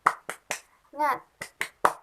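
Children in a classroom perform a rhythmic spirit clap: sharp, evenly spaced hand claps, paused once for a short shouted voice, then resuming in the same steady beat.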